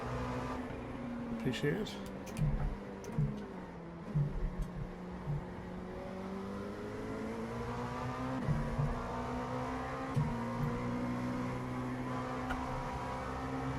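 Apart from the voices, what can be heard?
LMP2 race car accelerating at Watkins Glen in racing video game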